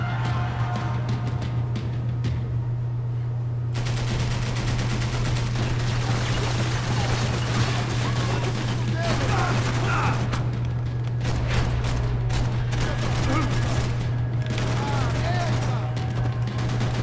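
Continuous gunfire in Max Payne 3, heavy bursts and scattered shots running under a constant low hum and dense game noise, with talking over it.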